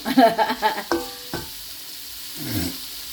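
Garlic and onions fry in hot oil, a soft sizzle under a few sharp utensil clinks and knocks against the pan, with light stirring scrapes near the end.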